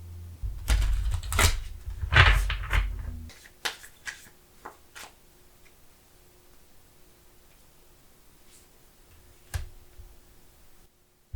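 Tarot cards are shuffled, handled and drawn, with a cluster of rustling, flicking card sounds up close at first, then scattered soft taps and slides, one sharper snap near the end, and no speech.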